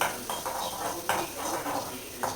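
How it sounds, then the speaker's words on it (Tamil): Cut onion sautéing in a pan with mustard seeds and cumin for a home biryani, a soft sizzle under several sharp scraping strokes of a utensil against the pan, close and regular. "இப்போது நம்ம ஆனியன் கட் பண்ணி வச்சுருக்கோம்ல நல்லா சாட்டே பண்ணிக்கலாம்"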